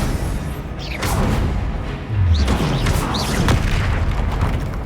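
Spell blasts in Hogwarts Legacy, a series of loud booming bursts with whooshing, crackling magic effects, several impacts in quick succession over a rumbling game soundscape.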